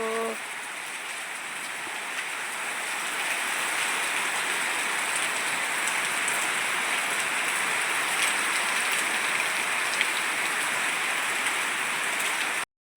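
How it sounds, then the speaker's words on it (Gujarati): Rain falls steadily on a flower garden, a broad, even hiss that swells slightly after the first few seconds and continues unbroken, with no clear voices. "વરસાદ ચાલુ થઈ ગયો છે આપણે"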